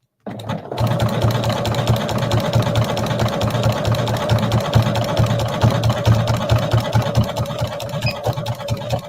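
A sewing machine stitches an appliqué leaf onto a beach towel, a steady close mechanical whir and rapid needle chatter running continuously after a brief start.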